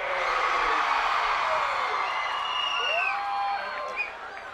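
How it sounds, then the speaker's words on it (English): A high school football stadium crowd roars loudly at a San Dimas Saints versus Bonita Bearcats game, a dense sustained wash of cheering that eases slightly toward the end, with a few whistling tones cutting through. "Deafening roar from the crowd."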